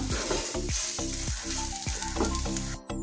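A spicy curry mixture for an Onam sadya thodukari, stirred in a hot pan: close, loud sizzling with rhythmic spatula scrapes and squeaky strokes against the pan, a steady scraping pattern with no voices.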